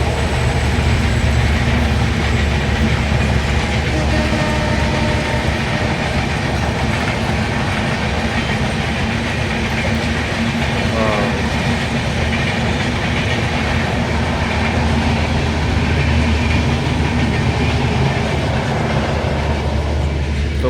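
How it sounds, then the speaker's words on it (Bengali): A Bangladeshi train rolls past on the railway line, a loud continuous rumble with rhythmic clickety-clack of wheels over rail joints, close and sustained throughout. "দেখতেই আপনারা সবাই দেখলেন বাংলাদেশের ট্রেন।"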